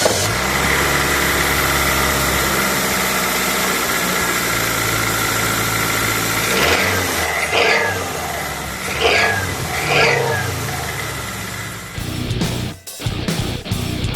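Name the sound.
car engine starting and idling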